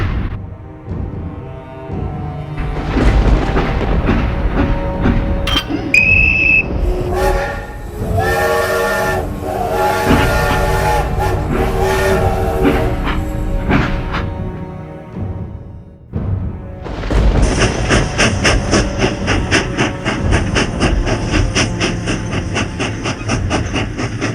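A train passes at night, loud and close, with heavy rumbling and clattering of railroad cars that run on steadily, a shrill whistle sounding partway through and the rattle continuing to the end.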